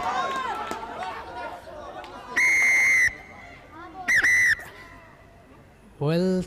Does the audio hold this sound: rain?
no